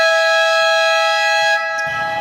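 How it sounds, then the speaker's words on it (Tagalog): A game-show buzzer blares as a loud, steady electronic tone with stacked harmonics for about a second and a half, then cuts to faint background noise. "Sige, buzzer!"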